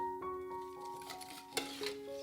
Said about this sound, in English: Stir this a little bit.